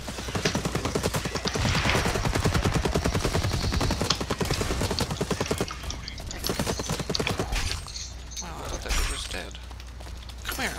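Rapid automatic gunfire and shotgun blasts from the shooter game Blacklight Retribution, loud and dense bursts for the first half before thinning into sparser shots and effects.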